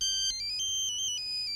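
Electronic phone ringtone sounding an incoming call, a bright melodic pattern of stepped tones that repeats steadily, clear and fairly close with no talking over it.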